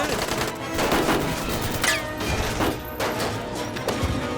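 Gunfire in an action movie, sharp cracking shots in quick irregular bursts mixed with crashes and impacts, loud and close throughout.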